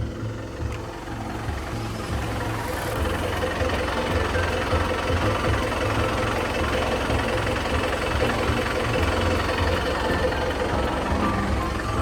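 A Komatsu 510 wheel loader's six-cylinder turbo diesel engine idles steadily nearby with a low, knocking rumble that stays constant throughout.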